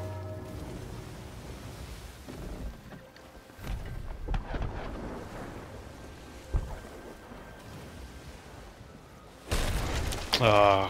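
Enemy ships fire cannons in the pirate game Sea of Thieves: scattered heavy booms and thuds over a rushing sea-and-wind bed, ending in a loud, dense burst of blasts and crashing noise.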